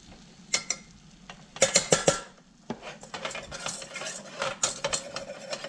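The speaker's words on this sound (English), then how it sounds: "And then just whisk that around. Probably a little bit more flour into that." Flour is whisked into a sauce base in a pan, with bursts of rapid metallic scraping and clinking of the whisk against the pan, interrupted by brief pauses, recorded close up.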